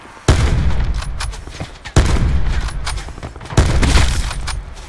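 Three heavy, booming gunshots from an Outlaw sniper rifle in Call of Duty Blackout, spaced roughly 1.6 seconds apart, each loud and close with a long rumbling tail and scattered smaller crackles between.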